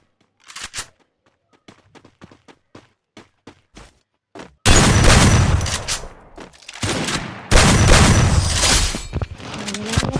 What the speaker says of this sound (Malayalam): അവനെ വെടി വെക്കുന്നുണ്ട്.